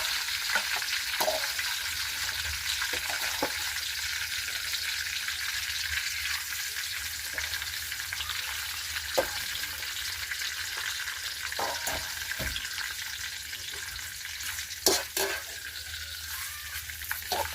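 Pork skin crackles and sizzles steadily in hot oil for chicharon, a dense bubbling hiss with sharp pops and spits scattered throughout, close and loud, no talking.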